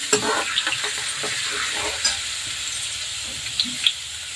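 Food frying in oil until reddish sizzles steadily at close range, with spatula scrapes and stirring knocks punctuating the continuous crackle.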